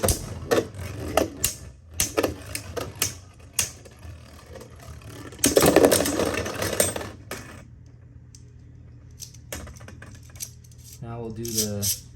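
Hasbro Beyblade Burst spinning tops from a motorized set clatter and clack against each other in a stadium, with irregular metallic ticks and a brief louder burst of collisions, then quieter whirring and a final rattling scrape.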